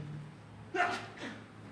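A single sneeze from a man during a Spanish-language church sermon, moderately close, with a sharp burst followed by a softer trailing exhale over a quiet room hum.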